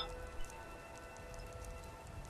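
Steady rain falls in Skyrim, a soft, continuous patter of drops with a faint background tone and no talking.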